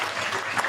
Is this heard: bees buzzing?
no